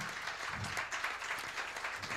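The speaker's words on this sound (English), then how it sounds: "Please give a warm round of applause." An audience gives a warm round of applause at a gathering, a brief burst of many hands clapping together, moderately loud and steady, with no speech.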